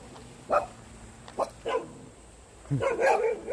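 Neighborhood dog barking in rural countryside, several short barks at moderate distance over steady outdoor background noise, the last ones coming in a quick cluster.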